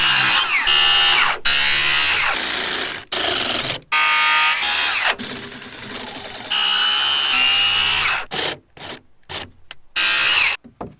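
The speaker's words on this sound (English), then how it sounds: "I'm going to finish it with a jigsaw, just so it's a square cut." A jigsaw cuts a wooden deck stair stringer to square up a curved cut, a loud, close, buzzing whine running in long bursts and then stopping and starting in short choppy runs near the end.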